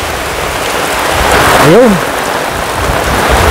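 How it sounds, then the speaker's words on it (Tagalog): Very heavy rain pours down steadily during a stormy afternoon, a dense loud roar of downpour that swells slightly midway, while someone speaks briefly over it. "Sobrang lakas po ng ulan."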